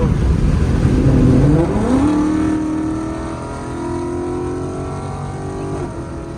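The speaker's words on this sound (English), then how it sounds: "This exhaust is so loud." Loud exhaust of a Ford Mustang on a highway, heard from inside as a deep, close roar that climbs in pitch through hard acceleration, then settles into a steady droning cruise.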